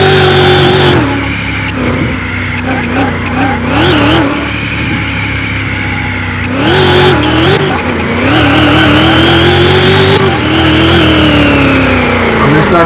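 A 7500 HP race car in Car Mechanic Simulator 2021 accelerates hard on a racetrack, its engine screaming loud and close with rising revs, brief dips between gear changes, and tyre squeal.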